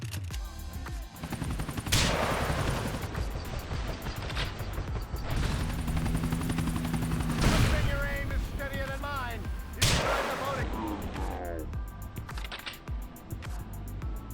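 Rockets and shotgun shells go off in modded GTA 4 gameplay, several sharp loud blasts and booming explosions spaced a few seconds apart over continuous game noise and rumbling.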